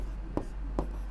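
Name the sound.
writing a maths solution by hand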